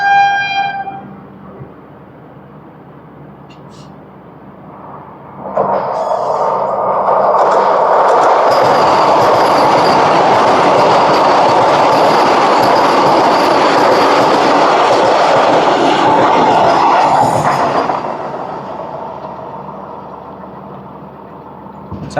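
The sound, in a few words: Repalle Express passenger train running on rails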